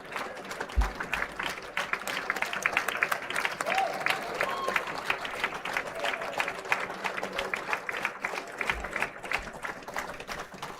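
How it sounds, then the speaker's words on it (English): Sustained audience applause for graduates at an engineering design convocation ceremony at IIT Madras, dense steady clapping from a large crowd in a hall lasting about eleven seconds, with no talk over it. "I think we can now give a round of applause for all the graduates of class 2026"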